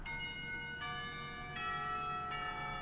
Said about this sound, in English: The clock tower bell rings, signaling the end of the period.